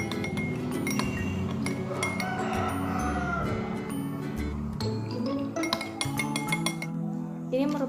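A spoon stirs soap solution in a glass, clinking repeatedly against the sides in a steady rhythm, close and fairly loud, over a background of music.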